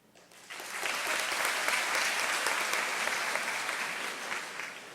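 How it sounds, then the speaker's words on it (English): Audience at a high school honors ceremony bursts into applause after a brief quiet start, the clapping sustained and dense for several seconds, then tapering slightly toward the end. "I'm really pleased that a bunch of you applauded"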